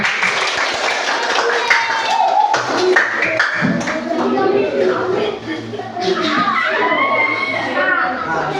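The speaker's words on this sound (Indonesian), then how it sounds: "Silakan tepuk tangan." Schoolchildren clapping in a classroom, a lively burst of claps and taps mixed with children's chatter and shuffling, close and fairly loud, with voices talking throughout.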